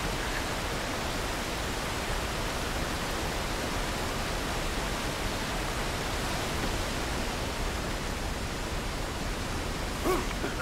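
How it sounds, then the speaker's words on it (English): A waterfall in the video game Castlevania Lords of Shadow makes a constant, even hiss of rushing water that fills the whole stretch without a break. "Waterfall's noisy."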